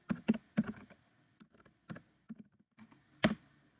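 Typing on a computer keyboard, a few quiet, irregular clusters of key taps close by, with no talk.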